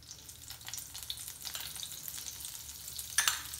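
Butter melting into hot oil in a pan for butter chicken sizzles and crackles steadily at close range, with a sharper spatter near the end and no talking.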